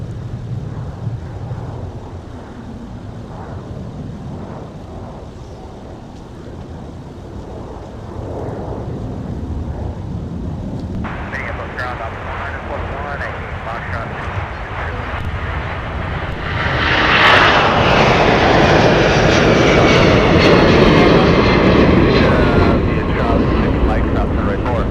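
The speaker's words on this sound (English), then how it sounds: "next up, we'll have a 757 departure off to Orlando" A Boeing 757 jet airliner departs MSP airport on a winter day, its engine roar building from a distant rumble to a loud, broad, sustained roar with wind noise on the microphone.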